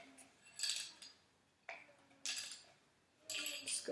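Spoon scooping peanut butter into a protein cookie mix in a bowl, three or four quiet bursts of scraping and clinking metal against the bowl, close and faint, with no talking.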